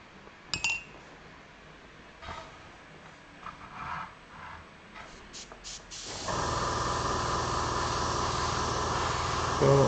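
An airbrush sprays primer onto a 1:48 Tamiya Messerschmitt Bf109 E-4 model kit, beginning with a few clinks and short bursts before settling into a steady, close, continuous hiss that runs alone to the end.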